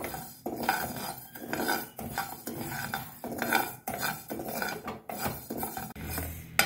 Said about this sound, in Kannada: ನೋಡಿ, ಆಲ್ಮೋಸ್ಟ್ ರೈಸು ಫ್ರೈ ಆಯಿತು.